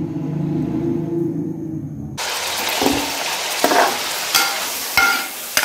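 Chicken hits half a cup of hot cooking oil and starts a loud, bright sizzle after a quieter low rumble. Sharp spoon knocks and scrapes follow as the chicken is stirred, close by and without talking.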